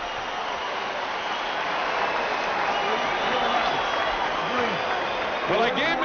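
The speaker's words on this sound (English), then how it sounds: "The crowd loves it." Boxing arena crowd during a Mike Tyson versus McBride fight, a dense continuous roar of applause and noise near the end of the fourth round, with a commentator talking over it.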